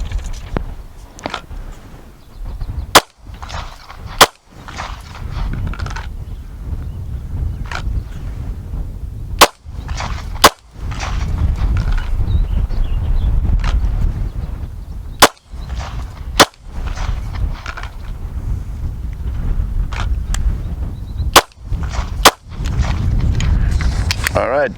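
Pistol shots fired during a shooting drill, a strong-hand draw followed by several sharp, loud cracks spaced unevenly over a steady low background rumble.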